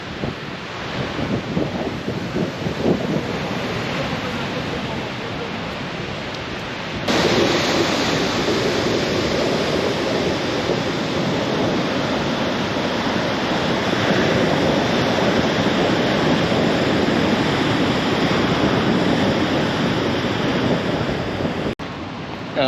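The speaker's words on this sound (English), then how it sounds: "Look at the waves this morning." Ocean waves roll in at Furadouro beach in Ovar, Portugal as a continuous, loud roar of surf mixed with heavy wind buffeting the microphone; no one talks.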